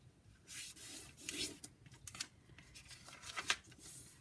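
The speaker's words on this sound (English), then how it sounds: "I'm just going to fold my paper in half" A sheet of origami paper is folded in half by hand, with close, quiet crinkles, rubs and a few sharp creasing swipes scattered unevenly over a few seconds.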